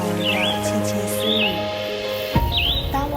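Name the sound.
birds chirping in forest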